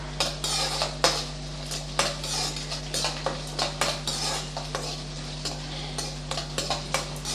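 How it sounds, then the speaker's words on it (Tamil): Carrot and curry leaves are sautéed in oil, with a utensil clinking and scraping against the pan in a quick, uneven rhythm over a faint, steady background hum. "இப்போ எல்லாத்தையும் சேர்த்து நல்லா வதக்கி விட்டுறலாம்"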